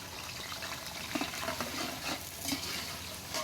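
Onions added to about half a kilo of hot oil for chicken and vegetable rice give a soft, continuous sizzle with a few light stirring knocks, fairly quiet and close, no speech.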